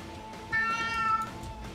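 One cat gives a single clear meow in the video game Europa Universalis IV, about half a second long, over a faint steady hum.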